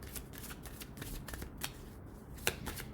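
Tarot cards being shuffled by hand before a two-card draw, a steady run of soft riffling and sliding strokes close up, with a sharper slap near the end and no voices.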